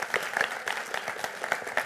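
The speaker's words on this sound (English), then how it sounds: "Let's give Joy a round of applause." Short burst of applause from a small audience at a talk on running a dance studio, several pairs of hands clapping unevenly with a few louder claps standing out.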